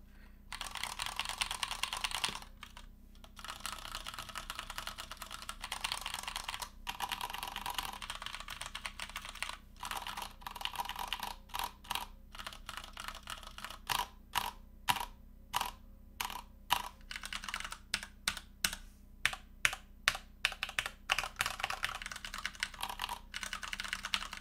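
Close, clear typing on a Masterkeys S aluminium tenkeyless keyboard fitted with a mix of ABS and PBT keycaps, with steady keystrokes that break into sharper, separate clacks toward the end and no speech.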